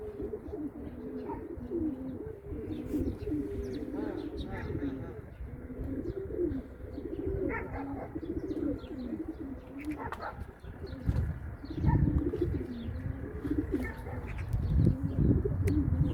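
Pigeons coo repeatedly in low, rolling calls, close by, with a few chirps and a brief flutter of wings.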